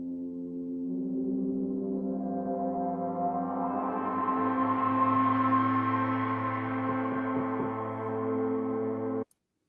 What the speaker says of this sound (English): What you're hearing is the play between those oscillators and the droning that occurs.